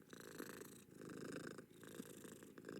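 A cat purrs close and softly in a rhythmic cycle, each rumbling breath in and out clearly separated by brief pauses, repeating about three times.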